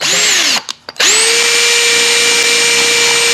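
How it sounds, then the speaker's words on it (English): A power drill whines at high, steady speed while boring a small hole into a headlight casing, stopping briefly in short bursts before spinning up again and holding its pitch. "you're gonna have to drill a small hole in the middle of it"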